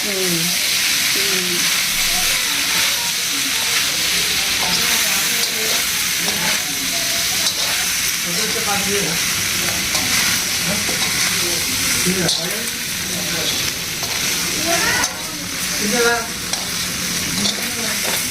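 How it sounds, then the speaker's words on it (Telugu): Chicken pieces returned to a hot pan of frying ingredients for Hyderabadi street-style mirchi ka salan, giving a steady close sizzle with stirring and scraping throughout, and no talk. "ఇవన్నీ వేగిన తర్వాత ఇప్పుడు మళ్ళీ ఆ చికెన్ పీస్ వేసేసుకోవాలి."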